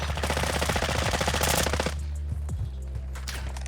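Rapid automatic gunfire from bots in Call of Duty: Modern Warfare II Warzone 2.0 DMZ, in bursts, loud and close, then cutting off into a quieter stretch with a few scattered shots.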